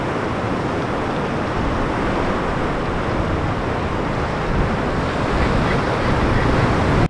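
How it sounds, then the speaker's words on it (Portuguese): Wild ocean waves crash against a rocky shore on Eysturoy in the Faroe Islands, a steady, loud, close roar of surf mixed with gusty wind buffeting the microphone, with no voices. "As ondas aqui, ó, estão bem selvagens, então tem que tomar um pouco de cuidado aqui andando nessas pedras"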